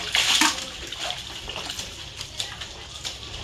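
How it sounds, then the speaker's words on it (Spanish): Towels being hand-washed in a basin of water with fabric softener, giving soft sloshing and splashing with one louder splash near the start. "Vamos a lavar primero estas toallas."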